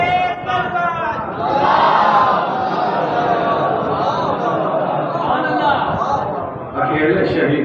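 A majlis congregation shouts slogans together in a loud, sustained crowd roar, voices rising and swelling in unison with brief dips, close and dense throughout.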